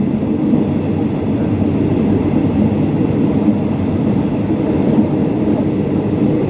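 A passenger train running from Chachoengsao to Bangkok rumbles steadily along the tracks, a loud, continuous roar of wheels and carriages with no voices.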